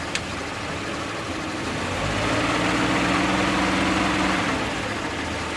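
A vehicle engine running steadily with its 46RE automatic transmission engaged in first gear, a constant low rumble and broadband roar that swells slightly midway, close and loud, with no talking.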